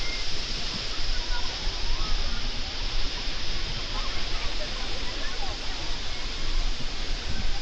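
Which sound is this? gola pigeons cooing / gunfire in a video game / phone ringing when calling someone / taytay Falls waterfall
taytay Falls waterfall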